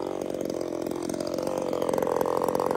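A top handle chainsaw runs at full throttle while cutting wood, a loud, steady buzzing whine that holds without a break for the whole stretch, with no voices.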